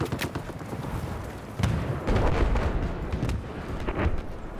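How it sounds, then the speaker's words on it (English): Gunfire and heavy blasts in the Battlefield shooter game, with booming impacts and rattling shots layered over a constant rumble, loud and close throughout with a few sharper hits. "Someone's shooting at me."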